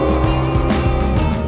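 Car lapping a hillside race circuit on new Michelin Pilot Sport 4S tyres, a loud steady engine drone with shifting pitch, heard close and continuous with no talk.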